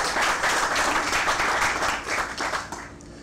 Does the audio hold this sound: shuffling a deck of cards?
no